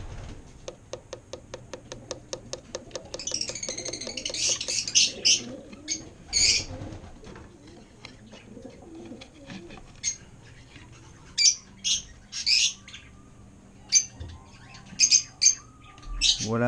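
Pet African lovebirds in nest boxes give a fast rattling run of chatter, then repeated sharp high squawks and chirps in short bursts, close by and loud, over a low background hum.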